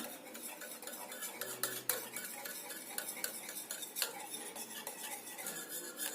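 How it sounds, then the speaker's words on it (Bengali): Spoon scraping and clinking steadily against a steel bowl while boiled milk is stirred into curd, a close, continuous stirring with sharp metallic ticks and no talk. "ফোটানো দুধ এবার এর সাথে ভালো করে মিশিয়ে নেব"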